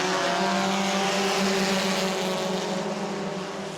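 A field of Bomber class stock cars roars off at the start of a race at New Smyrna, a dense, steady, loud engine drone with shifting revs and no voices.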